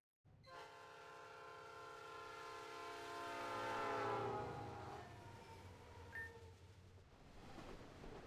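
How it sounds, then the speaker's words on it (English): A departing train in the video game Pokemon Reborn sounds a long, harmonically rich horn blast that swells for several seconds, then fades into a lower rumbling of the moving train. "Train's leaving any minute."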